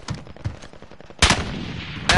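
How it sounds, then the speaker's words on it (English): Gunfire in the Call of Duty video game: a loud, close burst of rapid shots following some softer thuds, then a second burst starting at the very end, with no talking. "he steps back and just starts shooting"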